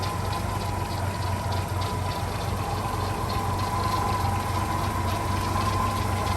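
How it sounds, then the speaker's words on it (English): A 1948 Chevy pickup's 216 engine runs at a steady idle nearby, a constant low rumble with a tonal hum, uninterrupted and alone. "That's a 216 engine and it runs good"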